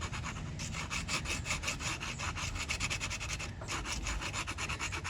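Scraping and scratching into wet paint on a paper palette during abstract painting, a continuous rough rubbing with quick rhythmic back-and-forth strokes, close and steady, no voices.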